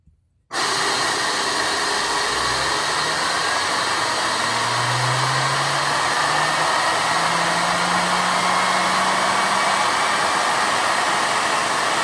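A two-stage bladeless Tesla turbine, 4.5 inches in diameter with a generator on the back, spins up toward 20,000 RPM. A loud, steady airy roar starts abruptly, and a low whine climbs slowly in pitch underneath it.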